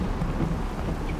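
Rain and thunder from the weather in the Bus Simulator 16 video game, a steady dense rumble of rainfall with low thunder rolling underneath, continuous and fairly loud throughout.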